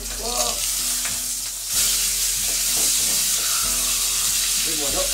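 Onions fry in a pan for a meat pie filling, a loud continuous sizzle and hiss up close with stirring scrapes, surging louder midway as more goes in, with no talking over it.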